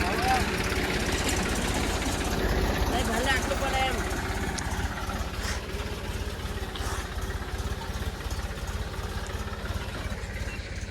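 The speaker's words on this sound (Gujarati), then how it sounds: "ટ્રેક્ટર લઈને નીકળી ગયા છે ઓરવા જવા માટે." A tractor engine running steadily while heading out to the field for sowing, a continuous mid-distance rumble with faint background noise throughout.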